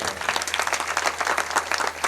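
An audience at a devotional kirtan gathering claps together in a brief, dense burst of applause, close and steady for a couple of seconds.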